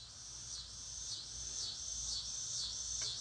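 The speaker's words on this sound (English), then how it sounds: "Yeah, the tree frogs are liking this" Tree frogs call outdoors at night in a continuous high, pulsing chorus that repeats in steady waves at moderate distance, with no voices over it.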